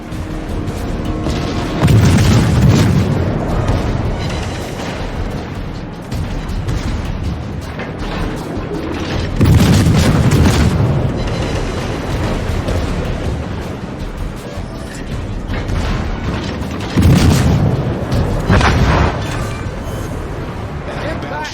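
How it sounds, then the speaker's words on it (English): A destroyer blows up in the naval battle game World of Warships. Deep booming blasts rise out of a constant loud rumble of battle noise and engine drone, with three heavy swells spread across the scene. "Enemy destroyer blown up."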